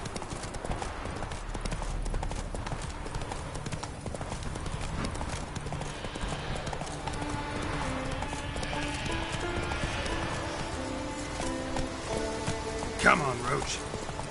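Horse hooves clip-clopping at a steady galloping rhythm in the Witcher 3 video game, close and continuous across the clip, with rain pattering and game music beneath and a brief whinny-like sweep near the end.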